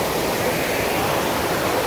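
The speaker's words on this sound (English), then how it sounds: "Drove up this random street towards the waterfalls. You can hear it rushing all over us" A waterfall rushing nearby, a loud unbroken wash of white water that fills the whole moment without a pause.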